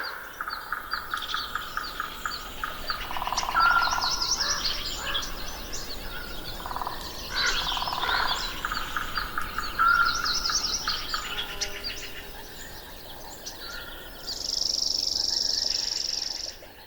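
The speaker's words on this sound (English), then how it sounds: "we want to pick up that onset of the dawn chorus and the world coming to life" Dawn chorus at sunrise: many birds chirping and calling at once, overlapping trills and tweets at moderate distance over a soft outdoor background, continuous throughout.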